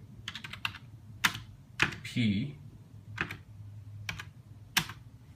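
Keys clack on an old, worn computer keyboard while a file name is typed for an Ensoniq EPS 16 sampler floppy, coming in short irregular bursts of taps with a brief spoken word in between.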